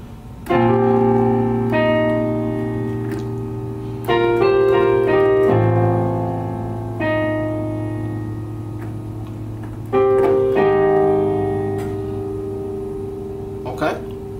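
Piano playing a song slowly, a short looping phrase of chords and notes repeating with sustained bass, close and clear.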